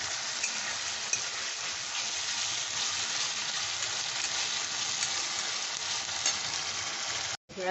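Ginger frying and being stirred in a pan with a ground onion and garlic paste for tomato sauce chicken, a steady, dense sizzle with faint scraping, close and continuous before a brief dropout near the end.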